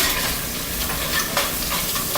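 Onions browning in a frying pan give a steady close sizzle and hiss, with brief stirring scrapes breaking through now and then; no one speaks.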